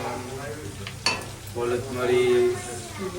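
Onions sautéing in a pan as ginger and garlic are added, a continuous sizzle and fry with a clatter of a utensil against the pan and stirring sounds swelling afterward.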